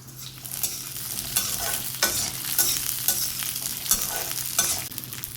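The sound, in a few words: onion and garlic sautéing in hot oil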